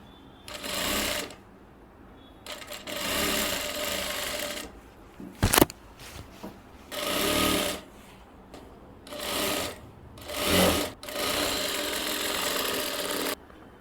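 A sewing machine runs a 5-inch seam on a kurti coat collar in several short, loud bursts of rapid stitching with quiet pauses between them and one sharp click midway.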